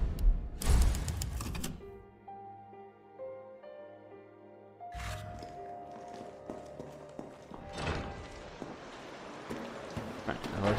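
Sharp mechanical clacks like typewriter keys and a carriage strike in Resident Evil 3 come in short bursts at the start and again later, separated by a sustained tonal chime, with footsteps and game effects around them.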